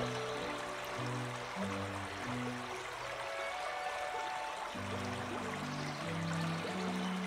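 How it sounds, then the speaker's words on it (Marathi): A small hillside stream in rural Konkan flows with a soft, constant watery rush at moderate distance, accompanied by steady background music, with no one speaking. "पोहोचल्यावर पाहते तर एक छोटासा व्हाळच वाहतोय"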